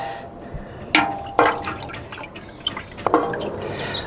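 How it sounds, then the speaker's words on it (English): Wooden cooking spoon stirring a mixture in water in a pot, made up as a treatment against vine weevil for bonsai trees: a few sharp knocks and splashy scrapes stand out against a steady watery background, with no voices. "I've got to mix it up, and I'm going to do that now with a wooden sort of cooking spoon"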